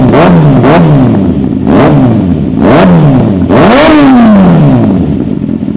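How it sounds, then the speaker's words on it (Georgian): Motorcycle engine fitted with a modified exhaust silencer, revved hard several times in quick succession, each loud close blip rising and falling in pitch, the last rev longest. "აი ეს არის ამ მოტოს ხმა"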